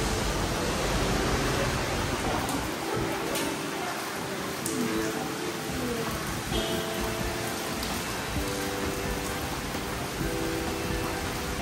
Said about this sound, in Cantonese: 勁大雨